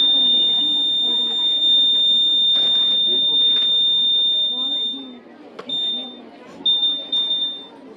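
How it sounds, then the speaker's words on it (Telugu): A buzzer alarm on a student's science exhibition model gives a steady high electronic tone that cuts out and restarts in short bursts near the end, heard over constant crowd chatter and nearby talking. "అలారం మోగినట్టు ఏం చేయాలి మనం ఎక్కడేదో కాలిపోతుందని తెలుసు"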